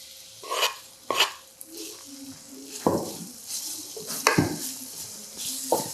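Grated ginger hits a hot pan over a medium flame and sizzles softly, broken up by several sharp clatters and scrapes of a utensil against the pan as it is stirred.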